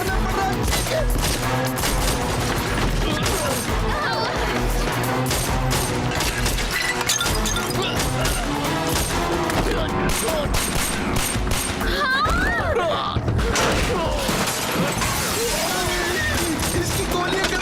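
Action-movie gunfire, sustained and dense, rattles on without a break, with bursts of automatic fire, crashes and shattering over a loud, chaotic background.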